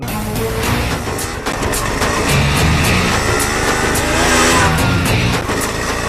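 A car engine drones loud and close on the road as a vehicle passes, a continuous rumbling roar with shifting revs and road noise throughout, no voices heard.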